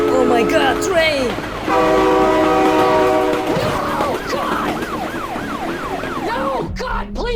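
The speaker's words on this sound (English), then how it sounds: "Oh my god, train!" A loud, sustained train horn sounds in the BeamNG.drive driving game, then the passing train rumbles on under repeated rising-and-falling tones and a sharp impact at the end.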